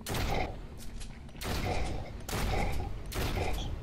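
Shotgun blasts in the VR game Propagation VR, four heavy booming shots at roughly one-second intervals, each with a ringing tail.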